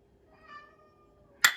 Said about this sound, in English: that's my cat in the background because he's not getting any attention